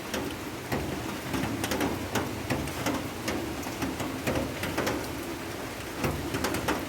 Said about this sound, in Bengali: বাইরে এটা বৃষ্টি পড়েই যাচ্ছে পড়েই যাচ্ছে পড়েই যাচ্ছে